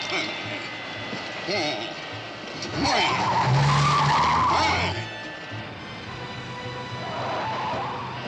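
The Batmobile skids with a loud, drawn-out tire squeal over a continuous roar of engine and road noise, with a second fainter squeal near the end.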